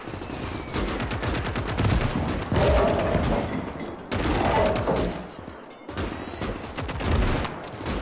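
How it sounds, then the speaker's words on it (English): Battle gunfire fills a World War II Eastern Front video game scene, with dense bursts of rifle and machine-gun fire, sharp booms and brief pauses, loud and close with no talking. "I think the artillery gun found some targets."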